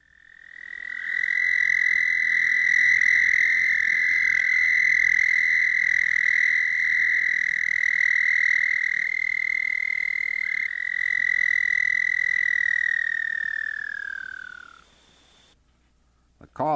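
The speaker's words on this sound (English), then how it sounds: "The call is still recognizable as being that of Bufo punctatus." A single red-spotted toad, Bufo punctatus, gives one long, loud, steady musical trill lasting about fourteen seconds, with a pitch that drops slightly as it runs down at the end, followed by near silence.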